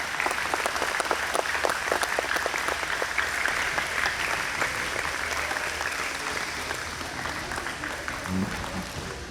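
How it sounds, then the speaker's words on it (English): A big round of applause fills a hall at a summer technology program expo, with many hands clapping continuously at moderate distance and easing off toward the end. "big round of applause."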